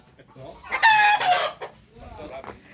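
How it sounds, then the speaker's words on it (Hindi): A rooster crows loudly nearby at a village home in Bali, a long drawn-out call, followed by softer clucking and another fainter crow trailing off. "और ये रहे मुर्गे।"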